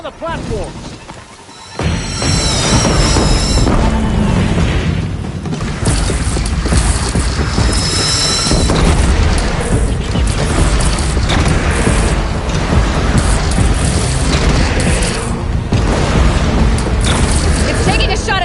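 Cannons fire in the Horizon Zero Dawn Remastered game on PS5, with heavy booms, mechanical clanking and crashes filling a loud, dense battle scene as voices call out.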